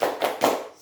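A group performing a rhythmic spirit clap during a school group counseling session, a few quick bursts of clapping in a short patterned sequence, close and moderately loud.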